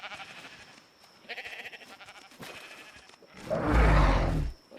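Sheep in the video game ARK bleat several times, close and clear, ending in one loud, drawn-out bleat over a faint high background tone.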